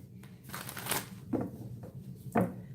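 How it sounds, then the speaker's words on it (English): A deck of playing cards being shuffled, with a few quick riffling bursts and softer card handling in between, close and moderately quiet with no talk. "Get a good shuffle"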